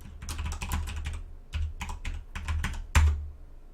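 Someone types fast on a computer keyboard while live coding, with close, crisp keystrokes coming in irregular bursts, short pauses between them and one harder key strike near the end.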